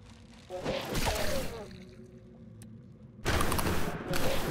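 Enemy ranged attacks firing small balls in the dungeon video game Grimrock 2, with two bursts of noisy, crackling impacts separated by a quieter gap, fairly loud and free of speech.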